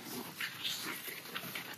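A dog whimpers and whines in short, soft bursts on a winter camping trip at -15C with a hot tent, close by and alone with no talking.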